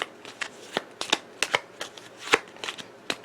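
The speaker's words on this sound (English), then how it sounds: "shuffle the villain trash into the villain deck" A deck of cards for the Sentinels of the Multiverse board game is shuffled by hand at close range, with quick irregular riffling bursts and snaps and no talk over them.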